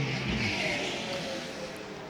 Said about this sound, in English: across the start-finish stripe comes the Audi R8 now